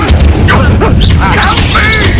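A fire spell cast in Hogwarts Legacy on Xbox Series S: a loud whooshing burst with booming impacts, buried in dense game music and combat effects, with voices in the mix.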